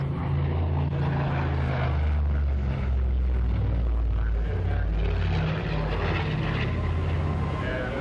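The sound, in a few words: aircraft flying at an air show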